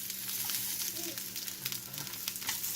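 Arepas frying in a pan, giving off a steady, even sizzle that runs quietly throughout without talk.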